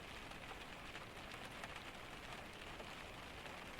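Steady rain falling outside a cabin during a Scandinavian storm, a soft continuous patter with a faint hiss that never breaks, heard alone without voices.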